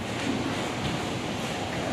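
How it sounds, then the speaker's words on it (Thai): A waterfall feature at a large coffee shop rushes continuously, a dense, steady roar of falling water close by with no talk. "น้ำตก"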